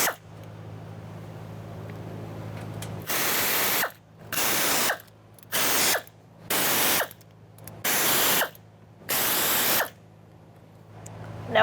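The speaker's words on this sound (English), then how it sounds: "using my air tool" Pneumatic air tool zipping out bolts on a 2002-2006 Toyota Camry fuel pump, six loud, close whirring bursts of about a second each separated by short pauses, over a low steady hum.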